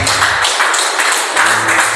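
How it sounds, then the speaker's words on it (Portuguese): A church congregation claps together in praise, a dense, loud, steady wash of many hands filling the room with a slight swell toward the end. "Alguém pode celebrar a Deus as suas palmas que você faz."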